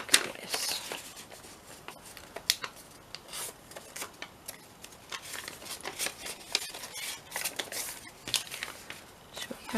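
Scrap paper and fabric being folded and tucked by hand for a vintage-style Christmas craft: close, irregular crinkling and papery rustles in quick bursts, with a soft voice talking in between.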